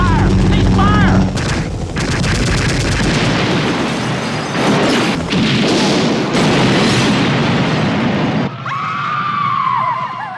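Gunfire and booming blasts in an action scene from the film The Running Man, loud and dense with a chaotic burst of shots and impacts, with shouting voices mixed in.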